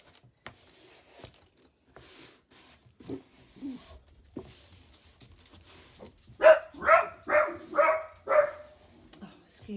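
A dog barks five times in a quick, loud run near the mic, after a stretch of faint scattered knocks and shuffling.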